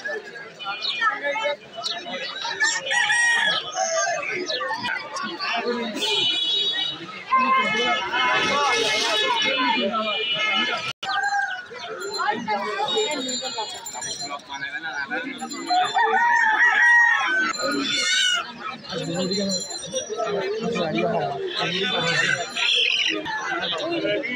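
Roosters crow and native chickens cluck amid a crowded, noisy poultry market selling ducks, chickens and pigeons, with constant chatter and babble from people nearby throughout.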